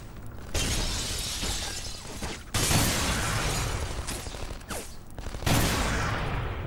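Bursts of rapid gunfire and shattering crashes from the original Xbox game Black, in a town stage, fill the mix, loud and dense, with abrupt cuts between volleys.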